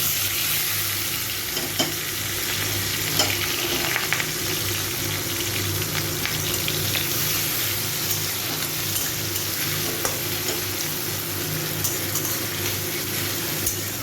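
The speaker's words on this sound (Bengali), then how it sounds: "এই পেঁয়াজ টমেটোটাকে একটু 2-3 মিনিট ধরে ভালো করে একটু ভেজে নেব।" Chopped onion and tomato fry in oil while being stirred for a spicy okra masala, giving a steady, loud, close sizzle with faint scraping throughout and no talking.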